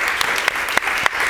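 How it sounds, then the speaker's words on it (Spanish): An audience at a culture and health gathering claps in a brief, dense burst of applause, loud and close, with a few sharper individual claps standing out. "Podemos aplaudir."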